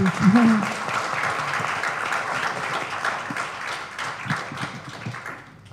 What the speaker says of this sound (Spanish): es un aplauso, por favor, de nuevo